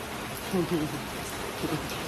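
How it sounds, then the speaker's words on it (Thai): Steady rain falling outside a home during a wet day, a soft, even hiss throughout with a few faint murmurs rising briefly over it. "ฝนตกตกนี่นะบรรยากาศแบบดูจี"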